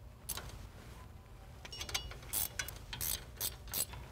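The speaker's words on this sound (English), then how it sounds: "Install the bolts that hold the hub onto the spindle. Tighten the bolts up." Hand ratchet tightening the hub bolts onto the spindle of a Jeep Wrangler: irregular bursts of quick clicking pawl strokes, close and moderately loud, with no talk.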